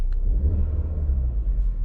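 A 2022 Audi RS6 sits idling with its engine running, giving a steady low rumble that holds evenly throughout without revving, close and alone with no talking.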